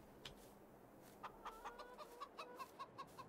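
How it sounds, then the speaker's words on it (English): Hen clucking in Farming Simulator 22, a run of about ten loud, evenly spaced clucks from roughly 1.2 seconds on, after one earlier call, with no talking. "That rooster's going nuts. Is it a rooster or a hen? Hen."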